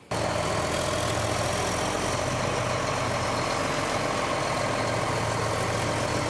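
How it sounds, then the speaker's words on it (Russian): A blue farm tractor's engine idles nearby at a steady, loud low rumble that starts abruptly and holds unchanged throughout, with no voices. "Это уже Фанис Валиулин про свой синий трактор"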